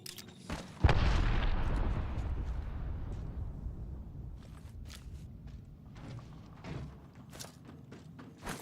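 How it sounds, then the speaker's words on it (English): Gunfire in the video game Apex Legends opens with a loud, booming blast that fades, followed by scattered, fainter shots and impacts. "I am taking fire."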